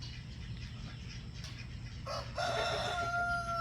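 A rooster crows loudly nearby over a steady low hum, with softer clucking and faint bird sounds before it.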